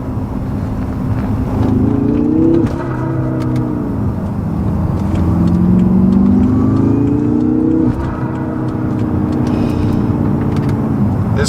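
A 2016 BMW M5 with a Dinan tune and modifications accelerates hard through the gears, its engine note climbing in loud, close rising pulls with brief drops at each shift, no talk.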